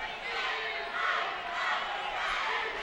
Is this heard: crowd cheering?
yes